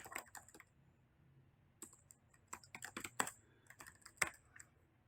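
Typing on a computer keyboard comes in short bursts of quick, close key clicks separated by brief pauses, fairly quiet overall.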